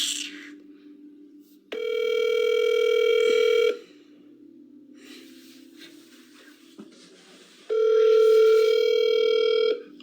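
Phone call tones: two long, steady dial-tone bursts of about two seconds each, separated by a quieter low hum and faint background noise, close and clear with no talking.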